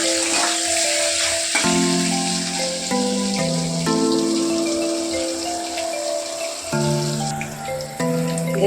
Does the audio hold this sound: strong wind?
no